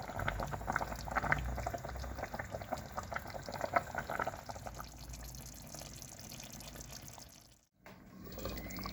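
Saffron meat stew for chelo gousht bubbling in a pot, a soft continuous simmer of small pops and gurgles that is quiet and close and eases off briefly near the end.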